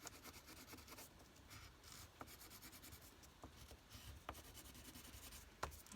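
A pencil sketching leaves on paper during a children's art lesson, with faint, steady scratching and rubbing strokes and occasional light taps, close and quiet.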